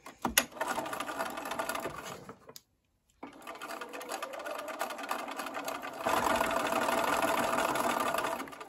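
A home sewing machine runs a steady whirring stitch along a Y-seam on a LeMoyne Star quilt block, stopping for a moment of silence before resuming and growing louder toward the end.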